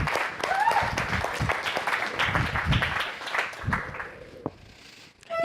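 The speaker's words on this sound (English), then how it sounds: "so give them a round of applause" Audience applause welcoming speakers to the stage at a founders' talk, a moderate, sustained patter of many hands with voices mixed in, thinning out toward the end.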